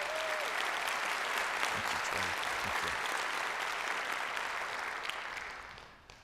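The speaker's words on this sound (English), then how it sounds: "Let's give our city staff a big round of applause." Sustained audience applause for city staff at the 2017 State of the City event in Arlington, Texas, a dense steady clapping that fills the room before tapering off at the end, with a brief thank-you spoken over it.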